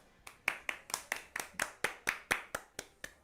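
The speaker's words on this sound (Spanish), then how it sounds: "Aplausos cerrados." Applause for the author Agustina Bazterrica at an interview event: a dozen distinct, evenly spaced claps in a steady rhythm, fairly faint and isolated rather than a dense crowd roar.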